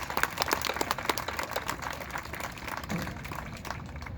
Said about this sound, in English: let's give a round of applause for our salutatorian, Carly Rodriguez